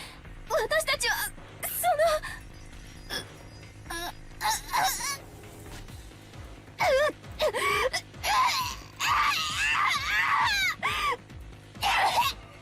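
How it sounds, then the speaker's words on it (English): Characters in the video game Umineko When They Cry let out agonized screams, wails and sobbing cries in repeated bursts, loud and close, with pained vocal groans between them. "I have to actually listen to these fucking agonizing screams of theirs"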